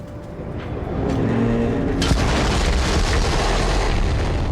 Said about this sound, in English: The explosion echoed through the forest